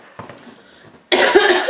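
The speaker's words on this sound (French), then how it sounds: "Désolée, hein, je vais tousser pas mal de fois." A woman who is ill coughs once, loud and close, after a faint quiet stretch.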